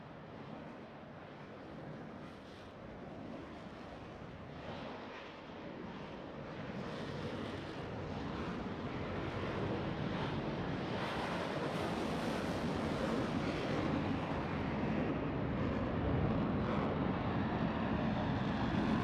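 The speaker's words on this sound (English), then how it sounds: "From the right, the official Virtual Roblox Blue Angel Diamond." Roblox video game Blue Angels diamond formation of jets flying past in a virtual airshow, a broad, roaring whoosh that builds steadily louder and stays heavy and continuous.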